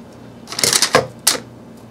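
Scissors snip off excess ribbon for a resin-preserved photo display, giving a few crisp close cuts in quick succession with a short gap before the last one.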